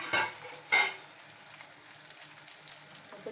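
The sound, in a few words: brinjal frying in pan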